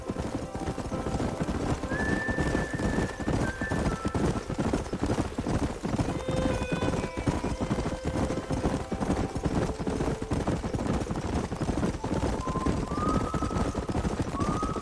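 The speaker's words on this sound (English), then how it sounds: "There's the horses!" In the video game Red Dead Redemption, horse hooves clip-clop steadily with occasional whinnies, under a constant dense background rumble; no one speaks.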